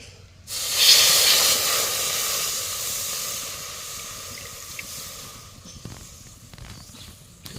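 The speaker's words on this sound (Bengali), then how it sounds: "জলটা ফুটে গেছে এখন দিয়ে দিচ্ছি লবণ আর একটু দিয়ে দিচ্ছি গুড়" Water boiling in a pot over a lit stove while making kadam pitha, a loud hissing, steaming rush that swells at the start and then fades to a softer bubbling hiss.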